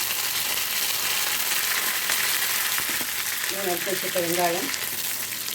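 Vadagam fried in hot oil for a fish curry, sizzling steadily and close throughout, with someone speaking over it near the end.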